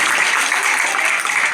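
Audience applause at a public speech: a dense, steady wash of clapping that holds at an even, loud level for the whole stretch, with no break or fade.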